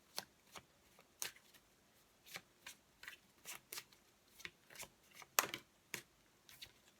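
Tarot cards are shuffled and picked during a card reading, a quiet close run of crisp papery flicks and riffles, about a dozen in an uneven rhythm, with one sharper snap near the end.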